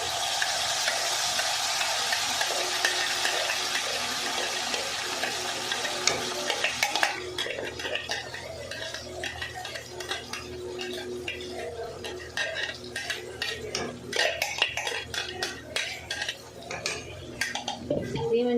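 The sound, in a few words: frying and stirring masala paste tadka with hing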